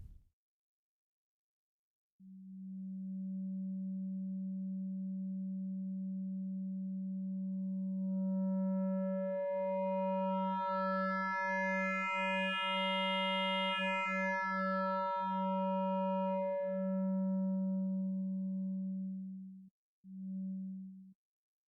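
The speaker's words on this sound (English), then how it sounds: "Let's now switch to the sine wave oscillator." Sine wave oscillator on a t-generator synthesizer module, a steady low pure tone that gradually gains brighter harmonics as wavefolding builds and then fades back, ending with a short repeated note.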